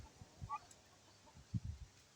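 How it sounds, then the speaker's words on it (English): Young turkeys cluck a few times close by, soft low calls in short bursts with brief pauses between them, and no voices heard. "here's the growing turkeys"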